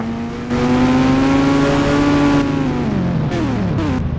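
A video game motorbike engine in Indian Bike Driving 3D revs up and holds a steady drone, then pitch drops and rises again in short bursts, loud and close with no talking.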